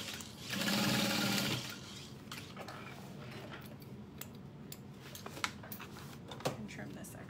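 A sewing machine runs one steady, close whirring burst of about a second while stitching a seam from the lining side of a Swoon Harriet project, followed by quiet handling and rustling.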